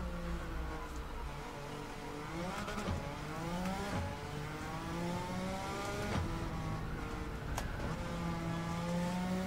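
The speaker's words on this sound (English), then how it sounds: "So it accelerates quickly in the first couple of gears, then it goes really long on the gears." Suzuki Escudo Pikes Peak Special 1998 race car in Gran Turismo 7, its engine revving and accelerating hard through the gears, pitch sweeping up and dropping at each shift, loud and continuous with no talk.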